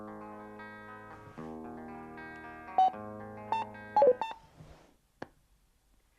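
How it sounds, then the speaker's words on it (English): A Cardo PACKTALK BOLD motorcycle headset gives a run of electronic tones, sustained chimes followed by several short sharp beeps and a final isolated blip against silence. "until you hear the second beep"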